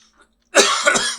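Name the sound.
cough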